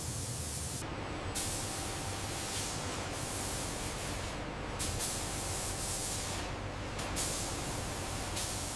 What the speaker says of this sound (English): Now the signature white thermal reflective coating is applied, designed to deflect the intense flash of a nuclear detonation.